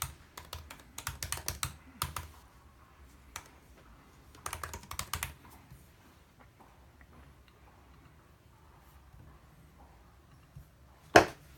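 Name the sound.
typing a password on a 2016 MacBook Pro keyboard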